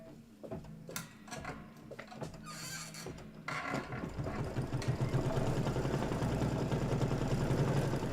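A home sewing machine stitches hot pink fabric, starting with a few short mechanical clicks and taps, then settling into a steady, growing rhythmic whir that runs to the end, with no talking.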